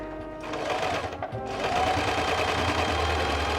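A Singer sewing machine runs steadily and close by, its motor whirring in a continuous mechanical drone after a brief start, with no one talking.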